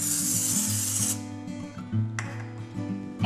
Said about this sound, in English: Now spray your baking dish with cooking spray